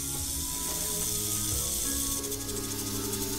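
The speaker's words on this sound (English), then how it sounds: "Is that a snake? Whoa, that is a tall snake." A snake in the Captain Bones video game hisses in a continuous, breathy wash under a steady game soundscape, with no talk.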